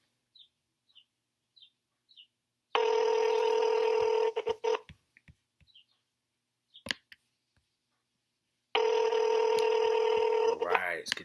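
A telephone call is dialed with a few short key tones, then two long steady ringback tones sound, separated by clicks and brief noises, loud and clear.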